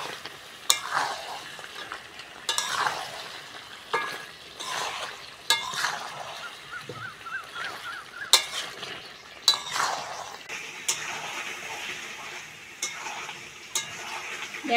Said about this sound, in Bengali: আলু দিয়েছি, এবার আরেকটু কষবো।